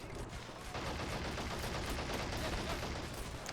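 Heavy bombardment and dense gunfire in the World War II strategy game Men of War Assault Squad 2, during the Battle of the Bulge mission, a loud, continuous crackling barrage of rapid shots and blasts with no pauses.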